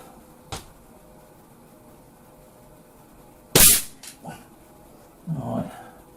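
A Chinese B1 .22 rifle fires while being zeroed at 10 yards. A few sharp, isolated cracks sound close by, the loudest followed quickly by two smaller clicks, and a short muffled sound comes near the end.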